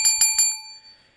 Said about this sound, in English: Don't forget to turn on those bell notifications while you're at it.